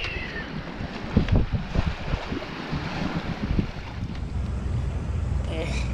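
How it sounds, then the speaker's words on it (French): A motor boat rides a sea swell: a low engine rumble, water sloshing against the hull and gusty wind buffeting the microphone, with a brief burst of splashing early on. "C'est une belle houle là."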